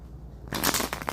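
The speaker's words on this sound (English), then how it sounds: "I'm going to do one more shuffle" A deck of tarot cards is shuffled by hand, a brief burst of dense papery riffling and flicking after a moment of near quiet, fairly close and crisp.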